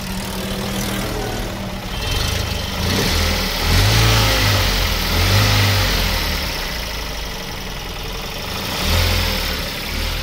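Tata Nano car engine idling close by with a low, throbbing mid-pitched hum, rising in several short revs and falling back, loud and alone with no talk.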